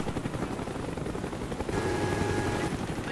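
A Cobra attack helicopter killstreak arrives in the Black Ops shooter, its steady loud rotor thrum droning throughout and swelling slightly in the second half as the aircraft draws near.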